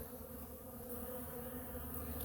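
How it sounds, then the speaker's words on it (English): Honeybees buzz around hive frames in a dense, steady drone that stays loud and continuous throughout, with no voices. "Oh, look at that bee."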